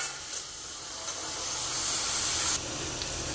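Fresh coriander leaves hit hot oil in a phodni tempering for a Maharashtrian yellow potato bhaji, giving a steady, close, bright hiss and sizzle that swells slightly toward the end, with no talk.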